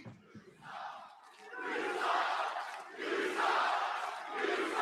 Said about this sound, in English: Look at them chanting tonight.